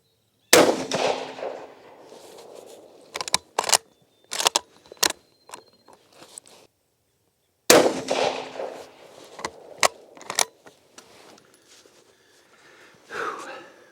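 A Mosin Nagant rifle fires sharp, loud cracks twice, each shot followed by a series of metallic clacks as the bolt is worked, with quiet gaps between.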